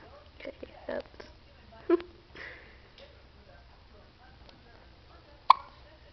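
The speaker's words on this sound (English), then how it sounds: "Hiccups." A baby boy hiccups softly a few times, the small sharp catches spaced irregularly against a quiet room, with one louder hiccup near the end.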